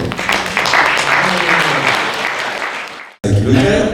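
An audience applauding at a support evening for Boualem Sansal, a steady wash of clapping from a crowd that cuts off abruptly, followed by a short burst of room noise and voices.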